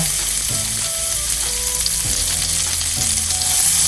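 Asafoetida, cumin and small-cut potatoes fry loudly in hot oil for sago pongal, a dense, constant sizzle that fills the whole stretch with no talking.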